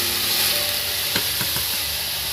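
Potatoes sizzle steadily in hot mustard oil in a pan, making a continuous close frying hiss, with a few brief stirring or dropping clatters near the middle.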